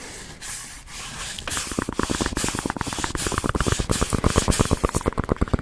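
Strips are ripped off and rolled up close to the microphone. A soft scraping gives way to a fast, rhythmic run of tearing, rustling pulses that grows steadily louder.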